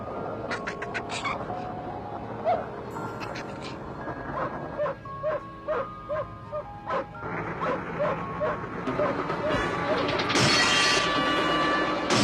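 A dog barks in a rapid, evenly spaced series of sharp yaps in the middle of the stretch, amid steady background noise, with some harsher noise near the end.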